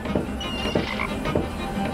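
A frog in the Chaos on Deponia game croaks in a few repeated low throaty bursts, roughly evenly spaced over a steady background hum.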